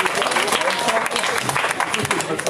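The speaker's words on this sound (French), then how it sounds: "On peut applaudir Jean-Loup, c'est effectivement la réponse C." An audience at a press conference on police violence in Amiens applauds a correct quiz answer, a short burst of steady clapping from a room of people with some talk mixed in.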